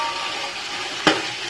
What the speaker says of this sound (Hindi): मैं इसको अच्छे से भूनूंगी।